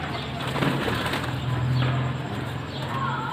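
Pigeons coo in low, soft, rolling calls repeating through the clip, near and clear over light background noise, with a brief flutter of movement.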